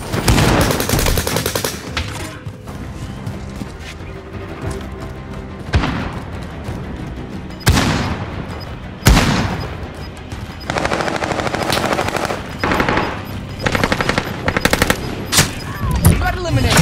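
Video game gunfire from Call of Duty Warzone, with loud bursts of automatic weapon fire and separate shots that repeat across the whole stretch, broken by short pauses and sharp onsets.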